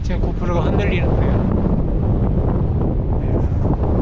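Heavy wind atop Ulsanbawi rock on Seoraksan mountain pounds a shaking GoPro microphone in a constant loud roar, with a voice briefly audible beneath the buffeting.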